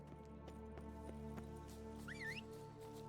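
Roach, Geralt's horse in The Witcher 3, a video game: soft hoof clops tap in a slow, even rhythm over a steady ambient hum, followed by a short high whinny, all quiet and fairly distant.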